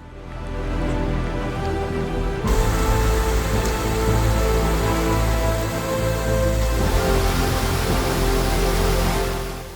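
Heavy rain pours steadily on a Himalayan mountain trek near Ghangaria in Uttarakhand, a dense continuous hiss that thickens abruptly partway through and stays loud and close throughout, with no voices.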